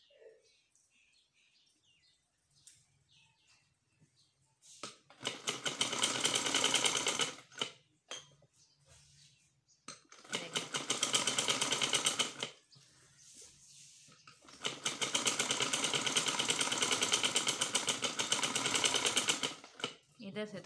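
Sewing machine stitching the fitting seams of a kurti suit: three loud, sustained whirring runs of a few seconds each, separated by quiet pauses with soft talk and faint bird chirps in the background.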